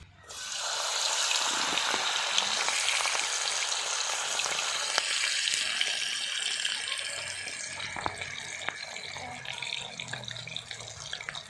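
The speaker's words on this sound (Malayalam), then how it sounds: "ഇനി തിളച്ച എണ്ണയിലേക്ക് നമുക്ക് നമ്മളെ കാടക്കോഴിയെ ഓരോന്നോരോന്നായിട്ട് നമുക്കതിലേക്ക് അങ്ങനെ തിളച്ച എണ്ണയിലേക്ക് ഇട്ട് കൊടുക്കാം" Quail pieces spiced with kanthari chilli masala drop into boiling oil and fry with a steady, loud crackling sizzle that runs the whole time, with a few sharp pops and spatters.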